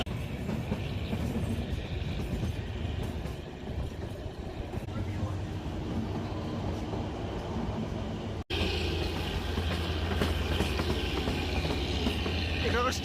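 The Kalka-Shimla toy train runs with a continuous rumble and rhythmic wheel clatter heard from on board, steady and fairly loud, with faint voices in the background and one abrupt cut partway through.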